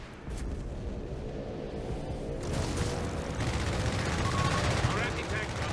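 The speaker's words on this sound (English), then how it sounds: "It was the strafing run" A strafing run in a strategy video game: sustained rattling machine-gun fire and rumbling impacts grow louder over several seconds and stay dense to the end.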